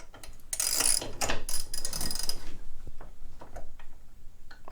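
A socket wrench ratchets on a motorcycle suspension nut, giving quick clicking pawl strokes in short bursts, louder at first and trailing off into scattered clicks, close by with no talk.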